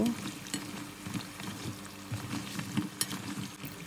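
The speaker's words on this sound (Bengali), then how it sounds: "আমি একটা চামচ দিয়ে আস্তে আস্তে নেড়ে ভেজে নিব" Mini potato puff patties fry in oil over low to medium heat while a spoon stirs them. A soft, bubbling sizzle carries scattered clinks and scrapes, fairly faint and without talk.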